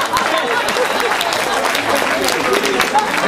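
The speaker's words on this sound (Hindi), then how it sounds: "ताली वाले बजा लीजिए।" An audience at a Hindi kavi sammelan poetry recital applauds steadily, a dense continuous patter of clapping filling the whole stretch at close range.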